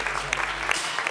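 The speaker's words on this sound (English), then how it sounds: "Round of applause," Applause from an audience at a school beat-making workshop, a steady wash of clapping lasting about a second, fairly loud and dense, with a few sharper individual claps standing out.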